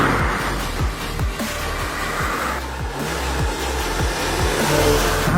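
A BMW M235i Gran Coupé in sport mode pulls hard under acceleration, a steady, loud engine roar with rapid rhythmic pulses and a broad rushing noise throughout.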